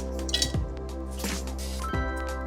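Whole spices for a beef tripe fry (black and green cardamom, cloves, cinnamon and a bay leaf) drop into a hot wok with a few light clinks and soft squishes over a steady low hum.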